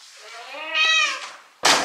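A cat lets out a single drawn-out meow indoors, close and clear, rising then fading, followed by a sharp burst of rustling noise.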